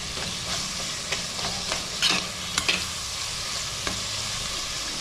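Onions and tomatoes frying in oil in a clay pot for a fish curry, a steady sizzle with a few sharp scrapes of stirring, close and moderately loud, no speech.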